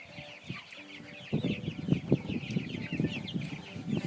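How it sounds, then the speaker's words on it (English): A flock of about fifty hungry chickens clucks and squawks continuously nearby, with bursts of louder calls rising over a steady background chatter of birds. "Hungry chickens."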